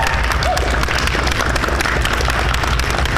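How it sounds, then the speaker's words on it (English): Steady, dense audience applause at a lightsaber fencing tournament, many hands clapping together at close range throughout the short burst. "can we all just give a final round of applause, please, to all of our fantastic staff today"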